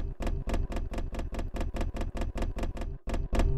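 Neo Soul Keys Studio electric piano on an iPad produces rhythmic mechanical clacking, about a dozen evenly spaced loud key strikes in quick succession, like a broken typewriter, with no talk.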